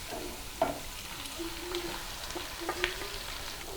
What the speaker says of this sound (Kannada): ಸೇರಿಸಿ ಒಂದು ಹೈ ಫ್ಲೇಮಲ್ಲಿ ಒಂದು 2-3 ಮಿನಿಟ್ಸ್ ಅಷ್ಟು ಹೈ ಫ್ಲೇಮಲ್ಲಿ ಇಟ್ಕೊಂಡು ಫ್ರೈ ಮಾಡ್ತೀನಿ